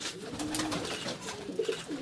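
Pigeons coo in a dovecote, soft low rolling coos repeating close by, with faint background rustle and no talk.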